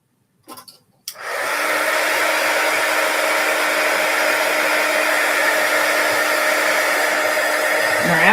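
Heat gun blowing hot air to heat set acetate: a couple of faint clicks, then the blower roars on and holds a steady, loud, close whooshing drone for several seconds.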